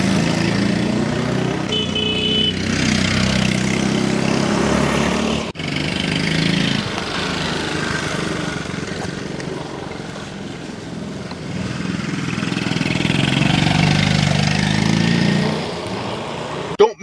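A 1973 Honda ST90 motorcycle engine idling close by, a steady low putter with a brief dip partway through and a rising swell near the end.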